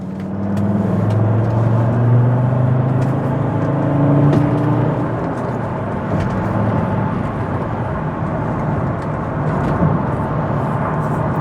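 Volvo car engine pulling hard uphill in third gear on the Blackstone Edge climb, a steady loud drone with a rising tone from inside the closed cabin.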